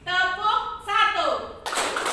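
A group in a classroom claps a short rhythmic pattern on cue. A spoken call comes first, then a burst of clapping near the end.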